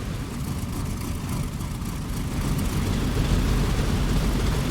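The radial engine of a P-47 D30 Thunderbolt in the DCS flight simulator rumbles steadily as it starts, a deep low drone that grows slightly louder partway through.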